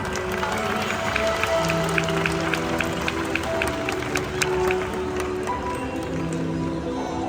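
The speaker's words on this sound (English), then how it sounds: "Let's give them a big round of applause." An audience at the Predators on Wings bird show at Bird Paradise in Singapore applauds steadily for the performing raptors, a dense patter of claps over a continuous background of tonal music and crowd murmur.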